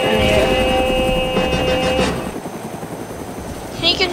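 A helicopter in the DayZ Mod video game thrums loudly and steadily with a whining rotor tone, then fades to a fainter drone, while a player talks over it.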